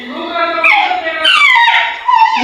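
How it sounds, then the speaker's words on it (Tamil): A dog kept tied up at a house gives loud, close, high-pitched yelping whines that rise and fall over a couple of seconds, with no speech over them. "இந்த நாய் ஒன்றுங்க வாழ்னு கத்திட்டே தானுங்க இருக்குது."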